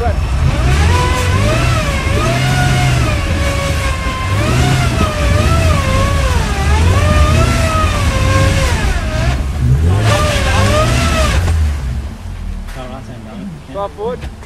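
A 4x4 off-road vehicle's engine revs hard and steadily as it tries to climb over a rock, the loud, close motor rising and falling throughout while people talk over it, then easing off near the end.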